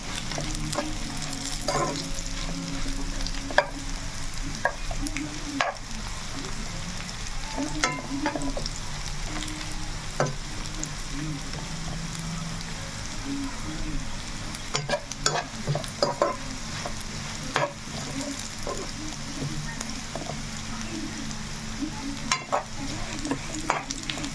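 Bitter gourd sizzles as it fries in a pan, with a steady crackling hiss and repeated scraping clinks of a spoon stirring through it, close and continuous.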